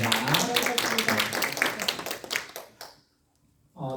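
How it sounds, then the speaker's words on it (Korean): A church congregation stands and claps in welcome for visitors, producing a dense burst of many hands that fades after a few seconds into silence. A voice then begins speaking. "환영의 박수 한번 드리겠습니다"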